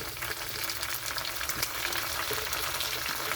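Tomatoes land in a pan of browned fried onions, setting off a steady close sizzle and crackle with faint stirring, no voices.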